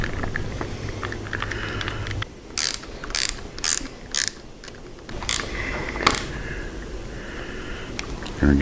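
A ratchet snugs up bolts on short motorcycle levers, giving several quick, bright clicking bursts with pauses between them over a low background hum, heard close by.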